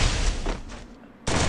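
Gunfire in the Free Fire video game, loud close shots bursting in a rapid cluster, a brief lull, then another sharp blast at the end, with no talk.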